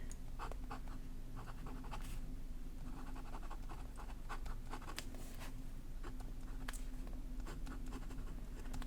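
A Kakimori brass dip nib scratches across paper in short, irregular bursts of strokes, close and quiet, with a low steady hum underneath.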